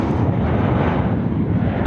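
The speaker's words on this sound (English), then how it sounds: "There's a Jetstar 672 service departing there to Darwin." A Jetstar airliner departs Sydney Airport, its jet engines giving a continuous, loud, broadband roar throughout.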